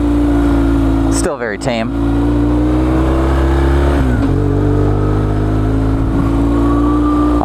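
A fully loaded BMW R1150 GS motorcycle riding onto gravel, its engine droning loud and steady close up with a brief roar and wind buffeting, while a rider speaks briefly over it.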